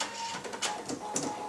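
An embroidery machine advances to the next spot and punches a stitch into fleece, giving a close, busy mechanical whirr with a few clicking bursts.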